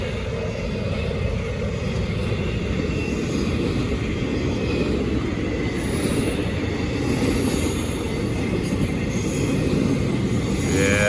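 Norfolk Southern freight cars, including intermodal spine cars, roll past close by on a curve of the Charlotte District, a loud continuous rumble of wheels on rail with steady high-pitched wheel squeal above it and no talking.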